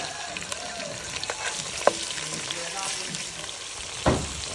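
Onions frying in a pan, a steady dense sizzle with occasional spatula clicks and a louder stir near the end.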